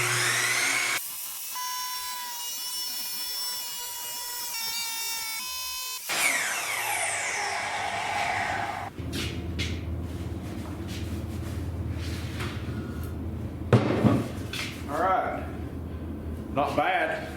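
A power tool grinds through a 2-inch, quarter-inch-thick metal tube, a high whine that shifts pitch as the cut proceeds over a steady rumble. Someone talks over it.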